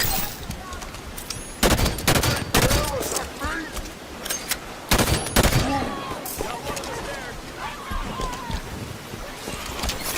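Turret gunfire in the video game Halo 5, bursts of rapid shots and impacts recurring over ten seconds, loud sharp volleys mixed with other battle noise and voices talking.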